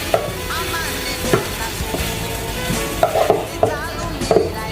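Soaked dried mushrooms tipped into a hot pot, giving a close sizzling hiss broken by stirring and scraping knocks, with no voices.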